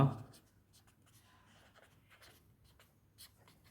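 A pen scratches across paper in short strokes and taps as a maths formula is written out. The sound is faint and close and follows a brief louder noise at the start.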